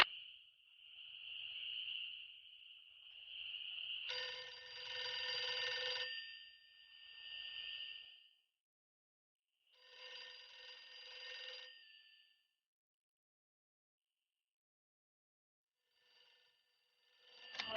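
An in-game telephone rings in Nancy Drew: Ghost Dogs of Moon Lake, a trilling electronic ring repeated in several bursts with pauses between, clear and moderately loud with no talk.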